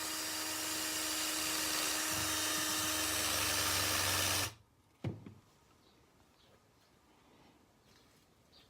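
A grinder rounding plastic washers gives off a loud, steady high whine for several seconds, then cuts out abruptly, followed by a single sharp clack and faint handling in the near silence.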